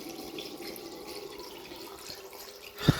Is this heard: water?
yes